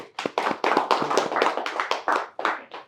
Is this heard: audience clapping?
yes